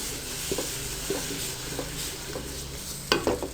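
Egg halwa being stirred in a pan just after milk is added, a soft steady sizzle with several scraping spoon strokes, the last few quicker and louder, close by.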